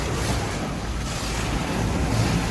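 Water sprays over a car inside an automatic car wash, a dense, loud, continuous hiss and rush that stays steady with no clear breaks.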